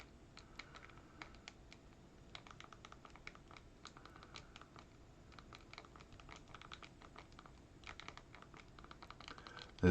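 A website address is typed on a computer keyboard, producing a steady patter of quiet, close key clicks with brief pauses between bursts.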